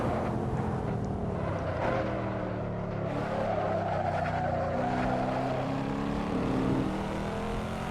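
A Corvette C7 racing through a flying lap in the Assetto Corsa video game: a steady, loud engine drone with shifting pitch and faint tire squeal, heard alone.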